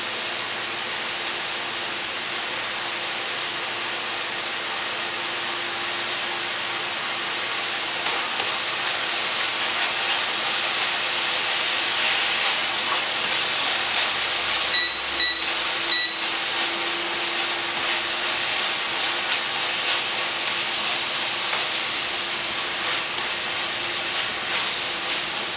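Ground red pepper hits a hot pan while Sichuan-style veal cooks, giving a steady, loud hissing sizzle that holds throughout with little change.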